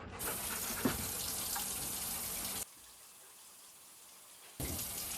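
Water gushes steadily from a tap on a well-pump house supply for a couple of seconds, cuts off to near silence, then starts flowing again.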